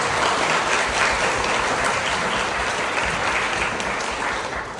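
A room of attendees at a county historical society's 75th anniversary spring meeting gives a steady, dense round of applause that fills the whole stretch at an even level with no pause.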